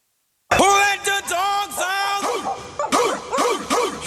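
Several dogs bark and yip in quick, close succession, their calls loud and bright over a steady background.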